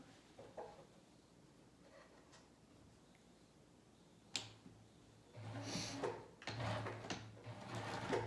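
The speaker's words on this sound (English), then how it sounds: "now we're going to sew that at 1/4 inch as well" A sewing machine stitches a quarter-inch seam on pajama pants in short bursts, quiet at first and then running in a fast, steady, close mechanical whirr with a few clicks between runs.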